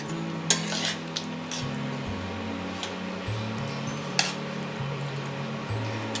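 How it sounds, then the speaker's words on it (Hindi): Chicken do pyaza gravy stirred in a metal pan, a steady scrape of the spoon with repeated clinks against the pan and a low sizzle underneath, close and continuous with no talking. "थोड़ा सा हमको इसे ऐसे ही मिला मिला के कुक करना है सो दैट ग्रेवी इसके अंदर अच्छे से चला"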